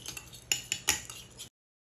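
A mustard and cumin vinaigrette is whisked in a bowl, producing a quick run of close metallic clinks and scrapes for about a second and a half before stopping into silence.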